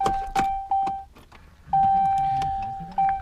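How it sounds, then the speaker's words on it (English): Turn signal on a 2018 Cummins truck fitted with Spyder tail lights, giving a few sharp nearby clicks alongside a steady electronic chime tone that cuts in and out. "So we'll do turn signals."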